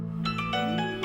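A phone ringtone chimes in a short series of repeated melodic tones, close and clear, in a Pakistani television drama scene.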